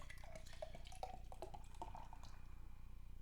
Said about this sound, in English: Poured it really aggressively to get that nice head.